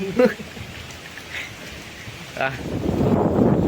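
Steady rain hisses throughout, swelling louder toward the end, with a few brief voice-like sounds early on; no clear thunder stands out.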